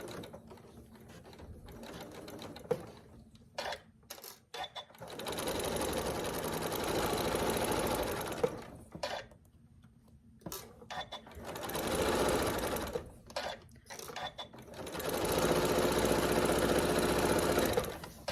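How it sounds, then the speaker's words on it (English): A sewing machine stitches quilt blocks with a quarter-inch seam, sounding as three sustained bursts of fast whirring stitches separated by short pauses with light handling noises, close up and with no speech. "And then just start stitching down using your 1/4 inch seam."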